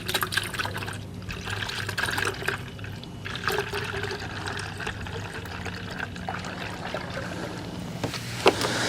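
Brake Buster cleaner glugs and splashes steadily from a gallon bottle during a Tesla Model 3 Performance wash, a continuous close pour with running, gurgling liquid and no voices.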